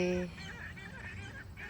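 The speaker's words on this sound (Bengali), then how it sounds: "পাখি ডাকে" A goose-like bird honks loudly once at the start, followed by softer calls and chatter from other birds at a lake in an open outdoor setting.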